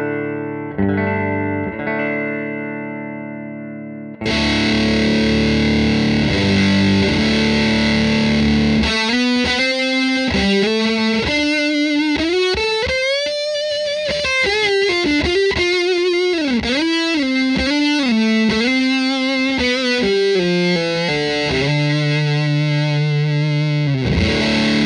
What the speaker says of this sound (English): Here's the classic sweep Big Muff sound we all know and love.